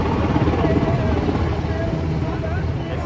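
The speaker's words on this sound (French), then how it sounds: "ils font durer l'hélicoptère qui, sans vous mentir, il tourne déjà depuis 30 minutes." A helicopter circling overhead for a long time during an outdoor event gives a steady, moderately loud rotor rumble, mixed with background crowd noise and occasional voices.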